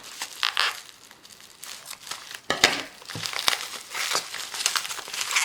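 Package of vintage Czech jewellery being unwrapped, with crinkling, crumpling paper and brief tearing bursts that come close and fairly loud in uneven waves throughout.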